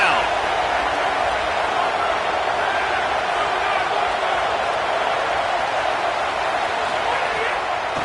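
A home football crowd roars steadily at Clemson as the defense faces third down, a dense wall of cheering noise that stays loud and unbroken throughout.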